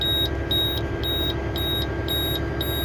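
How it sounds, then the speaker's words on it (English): A seeder monitor inside a tractor cab, running with a 5710 seeder, gives a steady series of short, sharp electronic beeps about twice a second. The beeps sit over a constant loud engine and fan drone. "Oh, of course it's going to beep at me here."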